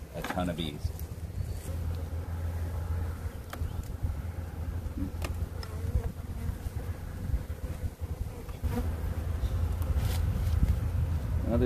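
A crowd of honey bees hums in a steady, fairly close drone from an open spring hive under inspection, with some wind noise across the microphone.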